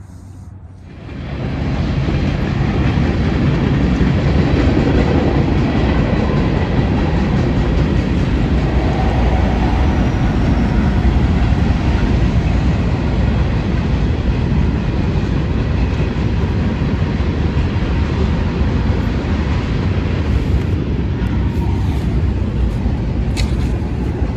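A train rumbles steadily past nearby, a loud, continuous roar of rolling wheels and rail noise that holds for most of the stretch.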